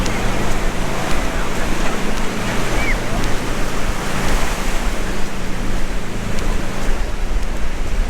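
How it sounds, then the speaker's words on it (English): Rough ocean surf at a South Padre Island beach in Texas washes in as a steady, broad roar with no distinct breaking waves, mixed with wind rumble on the microphone and no voices. "The ocean is kind of rough"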